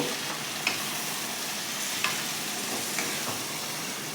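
Dal kalmi, a lentil dish with boiled salted water spinach stalks and added water, being stirred together in a pan; a steady soft sizzle with a few faint clinks of the spoon against the pan, no talking.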